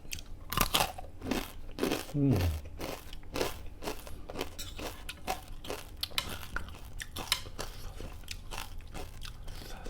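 Crispy Thai pork crackling is bitten and chewed up close, loud crunches repeating in a steady rhythm across the whole stretch, with a brief voice and faint dish clatter.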